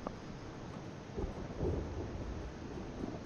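Thunderstorm in the video game Life is Strange: a steady wash of rain and wind with low rumbling thunder swelling briefly in the middle, no voices.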